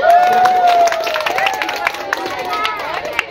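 A school audience at a children's preaching contest for a Maulid Nabi celebration claps amid crowd chatter, with a voice talking over the busy hall noise throughout.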